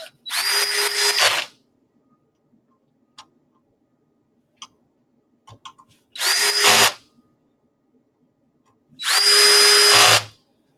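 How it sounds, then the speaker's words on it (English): A cordless drill set to its lowest torque setting whirs in three short bursts separated by pauses, each ending with a ratcheting clutch, with faint clicks and handling noises in between. "I just put a torque setting of 1 on my drill here so that I'm not over tightening them"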